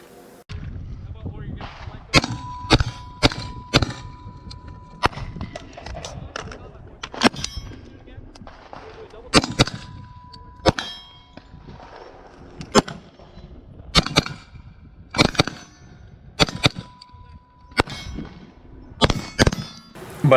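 A rifle wearing a Trijicon Accupower 1-8x28 scope fires at steel targets outdoors: sharp shots, each followed by a ringing metallic clang, come in irregular clusters of roughly a dozen or more over the stretch.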